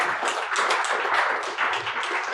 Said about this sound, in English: let's give a round of applause to everyone that's part of that